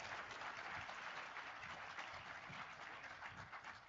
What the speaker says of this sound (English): Can we please give a huge round of applause for her performance today?